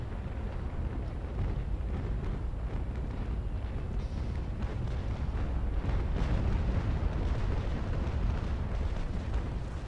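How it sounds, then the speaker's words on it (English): Naval cannon fire rolls across the water in a Naval Action sea battle between US and British ships, a dense, continuous rumble of distant booms with no clear gaps. "fucking cannon fire, man"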